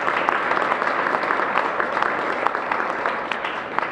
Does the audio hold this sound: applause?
yes